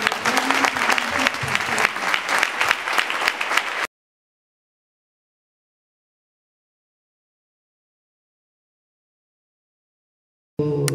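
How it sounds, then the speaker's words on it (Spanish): Warm audience applause for Argentine feminist scholar Dora Barrancos at a public dialogue event: dense, lively clapping for about four seconds, then abrupt total silence, with a brief burst of sound returning at the very end. "Les pido un cálido aplauso para ella."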